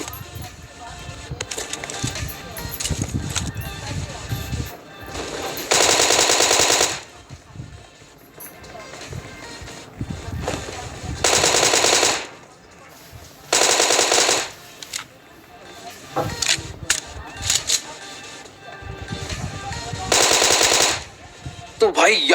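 Automatic gunfire in a shooter video game as enemies are knocked down, with several loud, sustained bursts of rapid shots separated by quieter stretches of game sound.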